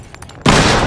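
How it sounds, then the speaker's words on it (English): An incendiary grenade in the video game Battlefield Hardline bursts with a sudden loud, broadband whoosh of igniting fire that sustains for the remaining half second after a brief quieter lead-in. "Throwing incendiary!"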